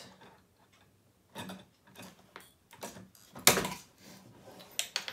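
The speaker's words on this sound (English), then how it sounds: "this hand crank makes it really easy to turn it too, because you can just turn it like that" A hand crank turns to coil wire for chainmail rings, giving soft mechanical ticks and ratcheting clicks in uneven bursts with quiet gaps, close by and fairly faint, one sharper clack near the middle.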